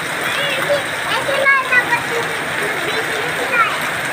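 Heavy rain during a thunderstorm in Nueva Ecija, Philippines, a steady broadband hiss of rainfall close by, with people talking over it and bird-like chirps.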